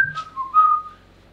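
A person whistles a short, clear gliding tune of two or three notes, bending downward, close and fairly loud, then fading into silence.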